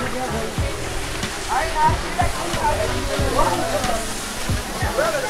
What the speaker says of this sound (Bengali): একদম ডাইরেক্ট পানি পড়ছে, ঝর্ণার পানি।